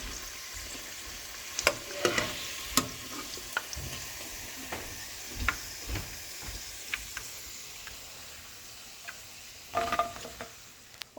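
Chicken pieces frying in hot oil for chicken manchurian, a steady close sizzle broken by sharp crackles and pops that flare now and then, with no talking.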